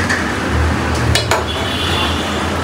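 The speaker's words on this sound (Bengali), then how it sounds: "হালকা করে নাড়াচাড়া দিয়ে দাও" Curry stirred in a cooking pot, a few metallic clinks of a spoon against the pot over a steady loud hiss and simmer of cooking.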